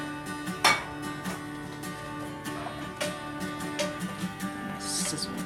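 Herb chicken and potatoes sizzle in a hot pan, a steady frying hiss running throughout, with occasional clinks of utensils against dishes close by.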